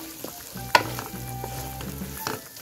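Marinated chicken and egg stir-frying over a high flame, a close sizzle broken by a sharp metallic clank from a utensil early on and some scattered stirring scrapes, with no voices.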